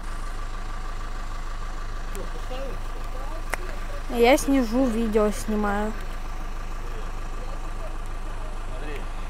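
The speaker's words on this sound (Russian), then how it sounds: "Трактор приехал." A tractor engine idles steadily nearby in a rural yard, a low continuous hum running throughout while a person speaks briefly in the middle.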